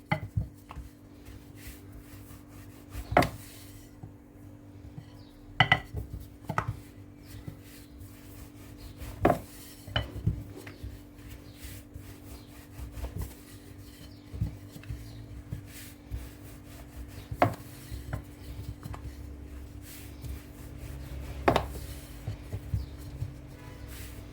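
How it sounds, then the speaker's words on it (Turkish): Turkish homemade erişte noodle dough sheets being rolled out, with soft rubbing and wooden thumps and knocks recurring every few seconds, close and fairly quiet, no talking. "Ne ince ne de kalın olacak şekilde yufkalarımı açıyorum."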